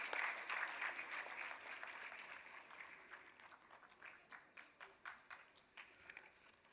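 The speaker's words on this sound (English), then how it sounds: "Some more claps for Rushika" Audience applause at a business school convocation ceremony, a dense wash of clapping that starts full and slowly fades into scattered individual claps, heard from a distance and fairly quiet.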